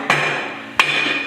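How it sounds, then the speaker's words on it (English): A hammer strikes packer shafts on a Bonnot 4 Series extruder twice in close succession, each a sharp, loud metallic clang that rings briefly and then fades. "You may have to hit them with a hammer."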